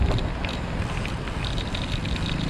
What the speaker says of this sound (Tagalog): lagaslas ng hangin